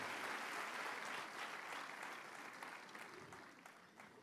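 A church congregation gives sustained applause during a service, a dense wash of many hands clapping that fades slightly toward the end, with no voices over it.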